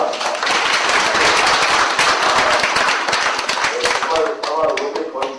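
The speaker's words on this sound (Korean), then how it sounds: "뜨거운 박수 부탁합니다." An audience at a workshop for housing-cooperative officers bursts into sustained, brisk applause, many hands clapping close and loud, with a voice briefly emerging near the end.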